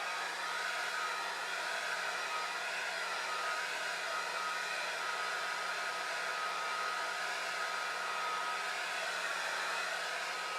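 A hairdryer blows steadily, drying a repaired Losi 5ive-T RC car body shell, a constant even whoosh and motor whine held for the whole stretch with no pauses.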